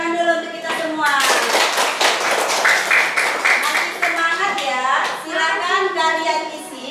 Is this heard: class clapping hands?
yes